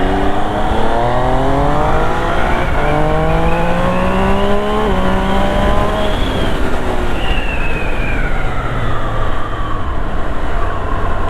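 A Triumph Trident 800 motorcycle accelerates hard through quickshifter upshifts. The loud, close engine note climbs steadily, then drops briefly at each gear change, with no talking.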